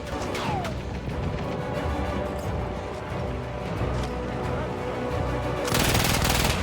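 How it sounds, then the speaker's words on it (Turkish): Heavy machine gun fire in the shooter game Battlefield 1, a loud sustained stream of rapid shots with crashing impacts, swelling into an even denser burst near the end. "karşımızda ağır makinalı tüfek taşıyan bir abimiz var"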